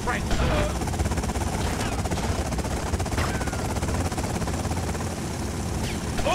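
A helicopter in GTA Vice City thrums continuously and loudly under bursts of machine-gun fire and other game noise, with a voice talking over it.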